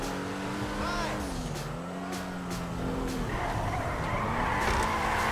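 In the GTA 5 video game, a car revs and its tires squeal through a drift, the engine pitch rising and falling over continuous road noise.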